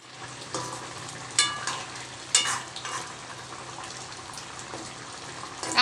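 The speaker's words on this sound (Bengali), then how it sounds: "এখানে তরকারিটা গরম করতে বসিয়েছি।" Vegetable curry with fish, papaya and potato reheating in a pan on a home kitchen stove, giving a steady close sizzle with a few sharper spitting bursts and stirring scrapes throughout.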